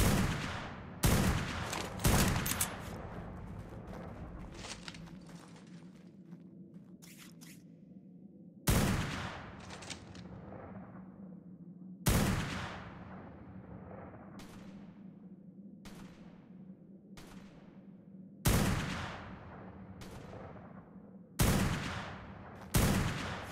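Gunfire in the video game Ark: bursts of several sharp shots open the passage, then single loud shots or short volleys return every few seconds over a low droning background, with no talk.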